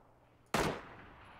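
A single sharp burst of assault rifle fire in PUBG first-person mode, close and loud, with a quick decaying tail and no talk.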